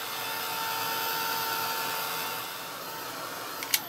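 A heat tool blows a steady, even whir while drying a decoupaged steampunk treasure box, alone and unbroken, ending with a short sharp click.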